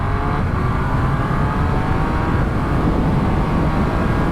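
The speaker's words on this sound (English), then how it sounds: "Let's demonstrate the quick shifter." A 2022 Triumph Speed Triple 1200 RS revs hard up through its gears using the quick shifter, the engine note rising steadily and loud under a heavy rush of wind, with brief dips at each shift.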